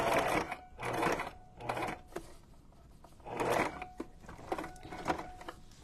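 Short, irregular bursts of a sewing machine stitching fabric for a junk journal cover, starting and stopping repeatedly with quiet gaps between runs, close and moderately loud.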